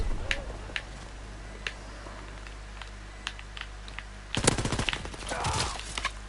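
Gunfire in Call of Duty WW2 hardcore multiplayer: scattered faint single clicks and shots, then a loud sustained automatic burst near the end that tails off into a rumble.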